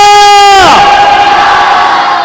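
A church congregation shouts hallelujah together, one loud sustained voice rising into a full crowd roar that fills the space and stays loud to the end.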